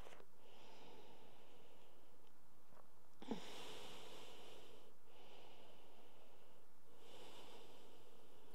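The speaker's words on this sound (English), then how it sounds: "Slow down the ripples of your breath." A yoga practitioner breathes slowly through the nose, about four long, hushed breaths in an even rhythm, close and faint with no speech.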